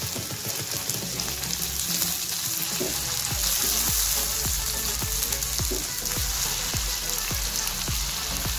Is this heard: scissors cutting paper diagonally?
no